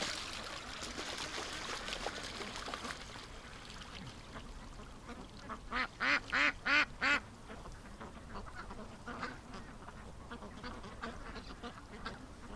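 A duck drinks at the water's edge near a log, with wet dabbling and trickling splashes throughout and a burst of about five loud, evenly spaced quacks midway.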